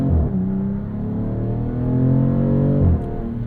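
A 2026 Dodge Charger Scat Pack sedan with a twin-turbo inline-6 and ZF 8-speed accelerates, its engine note rising steadily and then dropping sharply at a gear change before pulling on, loud and close.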